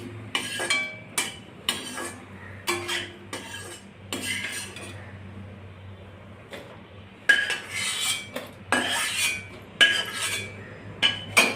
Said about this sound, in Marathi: आता आपण थोडे बटाट्याचे वेपर तळत आहोत